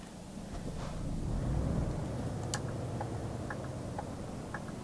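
A DAF Euro 6 truck engine in Euro Truck Simulator 2 drones low and steady, swelling slightly, while a turn-signal ticks in a regular rhythm over it; fairly quiet overall.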